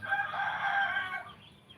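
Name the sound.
wild bird calling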